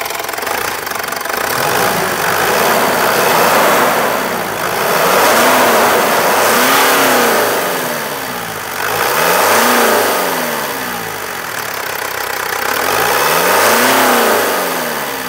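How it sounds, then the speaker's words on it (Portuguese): A Mitsubishi Pajero Dakar engine revs repeatedly in loud, rising and falling bursts, roughly every few seconds, with a steady mechanical roar between the pulls. "Dá uma aceleradinha para nós aí, William."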